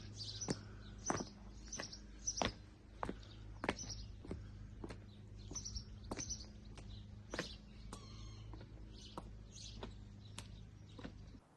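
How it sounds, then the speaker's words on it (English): Countryside ambience in Devon, with short bird chirps and tweets scattered among sharp rhythmic clip-clop taps, all fairly quiet and at a moderate distance, with no talk. "A bird sings."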